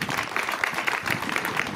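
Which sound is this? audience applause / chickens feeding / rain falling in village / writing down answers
audience applause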